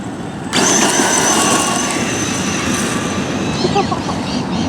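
An RC car running on LiPo batteries whirs into a loud, steady electric motor whine after a short quiet start, with rising and falling tones near the end as it speeds away.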